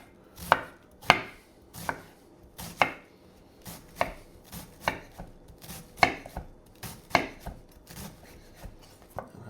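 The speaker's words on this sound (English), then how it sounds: "we're going to cut base triangle just to cut out the little core from the cabbage, and then basically shave our cabbage" A knife cuts the core out of a cabbage and then shaves it for homemade coleslaw. About fourteen crisp, crunchy chops land at a fairly even pace on a board, close and distinct.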